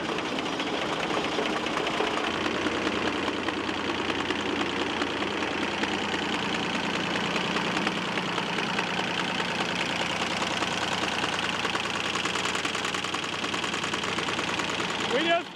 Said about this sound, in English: That should be enough fuel to get it to run.